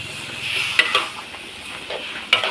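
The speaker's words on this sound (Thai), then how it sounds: "ผัดบวบกระทะใหญ่เลยจ้ะ" Zucchini sizzles steadily in a large hot pan as a utensil stirs and scrapes, with a few sharp clinks of metal against the pan.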